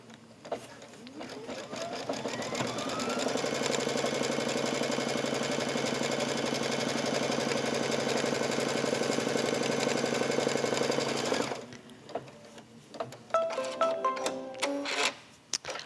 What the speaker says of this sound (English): I'm going to lower the foot and get this border piece stitched on.